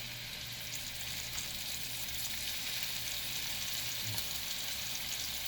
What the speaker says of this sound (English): Have a nice sizzle already.